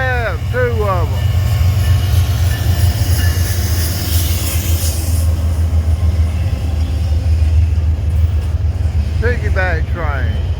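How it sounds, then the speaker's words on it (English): A BNSF freight train led by two locomotives rumbles steadily past at close range, its low continuous roar filling the scene, with brief bursts of talk near the start and end. "BNSF, 2 of them."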